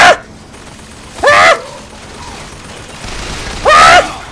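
Gunfire in the shooter Bioshock Infinite: a couple of loud, sharp bursts about two seconds apart, each with a ringing, descending tail, over low background game noise.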